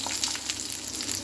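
Onions hit hot oil for gobhi kababs, a brief, dense, close sizzle that stays even throughout with no speech.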